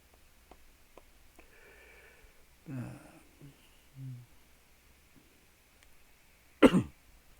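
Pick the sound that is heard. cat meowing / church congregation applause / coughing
coughing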